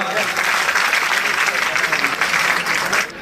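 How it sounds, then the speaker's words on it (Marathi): A crowd at a Sant Bhagwan Baba birth anniversary gathering bursts into loud, sustained applause, dense steady clapping from many people filling the whole stretch before tapering at the end. "जोरात टाळ्या वाजवा"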